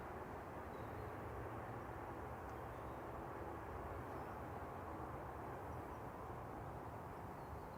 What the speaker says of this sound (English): Oh, it's got your favourite thrust reversers as well.